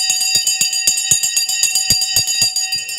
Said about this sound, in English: The bell's about to go.